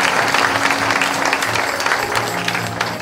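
A church congregation claps and cheers in praise during a healing service, a steady loud wash of applause with a low hum of voices, close and continuous throughout.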